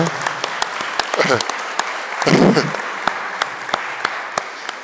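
An audience at a French-Italian family business forum applauds, a moderate patter of clapping that swells briefly while a voice speaks over it.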